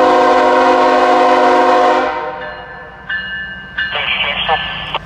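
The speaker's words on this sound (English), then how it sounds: "up comes our first train on track one, tiptoeing into the junction here" An intermodal freight train led by BNSF locomotives enters a junction in Ohio. Its horn blares loud and sustained, then cuts off, and a voice comes over a radio as the train rumbles slowly past.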